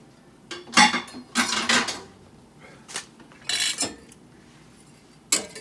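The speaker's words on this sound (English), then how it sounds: "stir that in there" Mushroom sauce being stirred in a pan with a spoon, a few loud scraping and clinking strokes in bursts separated by quiet pauses, close and with no talking.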